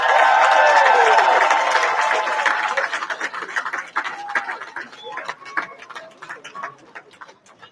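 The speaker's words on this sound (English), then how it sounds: "Let's give them a round of applause." Crowd applause at an event, loud, dense clapping at first that thins into scattered individual claps and fades out, no voices on top.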